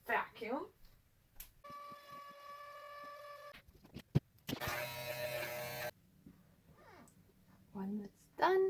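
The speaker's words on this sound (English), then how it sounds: "The vacuum." A vacuum cleaner used while making fur panda cosplay ears gives two short bursts of whining motor hum, close and moderately loud, with someone talking quietly before and after.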